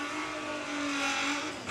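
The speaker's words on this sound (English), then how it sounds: "Unmistakable sound of a VR6 motor there." A VW drag racing car with a VR6 engine at Santa Pod, its engine wailing loudly and continuously under hard acceleration, with a rising, slightly fluctuating howl throughout the short burst.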